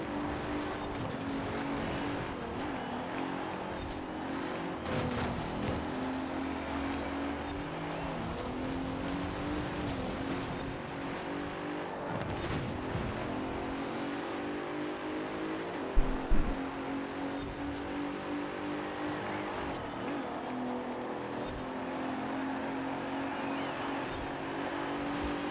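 Car racing through snow and onto asphalt in Forza Horizon 4, its engine droning steadily throughout with shifting revs, tire noise and a brief sharp knock midway, loud and continuous with no talk.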